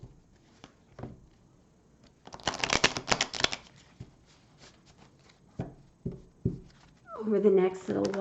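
Oracle cards being shuffled by hand, a dense burst of riffling near the middle between softer taps and handling noises, with a person speaking at the end.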